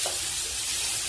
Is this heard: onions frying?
yes